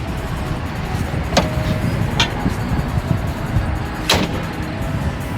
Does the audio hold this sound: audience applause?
no